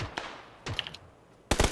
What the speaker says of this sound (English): Somebody's shooting at me.